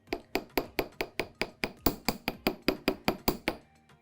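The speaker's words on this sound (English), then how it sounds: "lay it flat on your bench block. and then hammer it this way as well," A metal hoop lying flat on a bench block is struck by a hammer about sixteen times in a steady, even rhythm, each blow a bright, ringing metallic tap heard close up with no talk.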